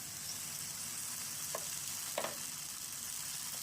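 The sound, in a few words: tomatoes sizzling as they are added to the pan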